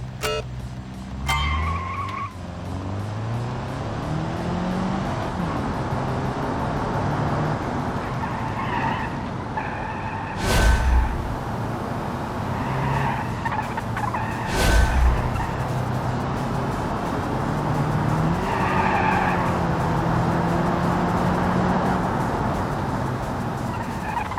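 A car in BeamNG roars along with a rising and falling engine note, breaking into tire squeal and skidding as it brakes, with a couple of sharp knocks; loud and close, without speech.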